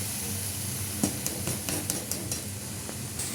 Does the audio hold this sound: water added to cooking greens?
yes